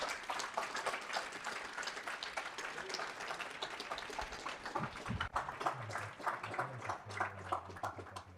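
An audience applauds at the 2022 Happy Valley Capital Pitch Competition as the winning startup is announced, with dense, steady clapping for several seconds and a voice faintly starting up near the end.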